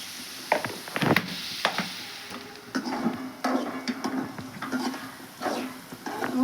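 Beetroot pieces fry in hot oil with a little salt, giving a steady soft sizzle broken by spatula scrapes and stirring clinks against the pan, close and moderately loud.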